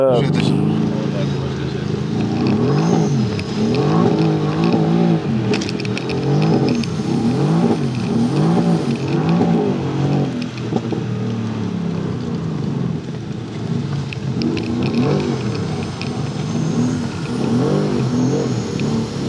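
A Mercedes-AMG GT R sports car engine revs hard and steadily, its pitch rising and falling over a constant loud roar, with voices talking underneath.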